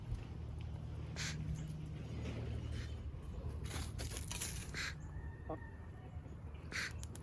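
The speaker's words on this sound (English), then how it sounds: "I think Dolly Parton might be a rooster" Backyard chickens on a small farm plot give scattered squawks and clucks over a low hum and rustling, faint and intermittent with brief louder calls.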